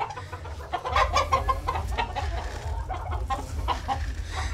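Hens cluck repeatedly in short bursts, fairly close, over a steady low hum of farmyard background noise.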